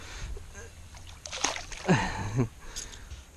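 A thick, stocky fish caught on topwater gear is let back into the water with a brief splash and slosh up close, while people talk quietly nearby.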